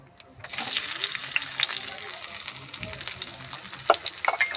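Boiled potato pieces and peanuts frying in hot oil, a dense steady sizzle starting abruptly after a brief quiet moment, with scattered pops and occasional stirring scrapes, close and fairly loud.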